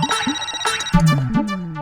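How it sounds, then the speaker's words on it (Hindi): A phone ringtone plays a short, bright electronic melody of rising and falling tones, close and clear with no talking. "अहो फोन बज रहा है आपका।"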